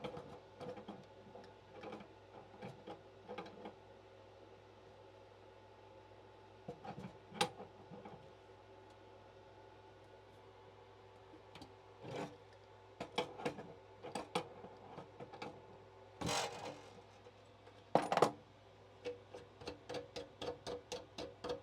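Tools work on an RV stove while its gas line and screws are removed: scattered clicks, ratcheting bursts and metallic taps over a low steady hum, quiet and close, with no voices.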